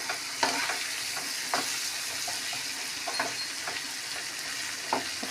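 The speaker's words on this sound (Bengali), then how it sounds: "পটলটা দেওয়ার পর প্রচুর ফুটেছে বাবা।" Pointed gourd frying in a wok with salt and turmeric over a stove, a steady close sizzle broken by repeated scraping stirs and spatter pops, moderately quiet with no speech.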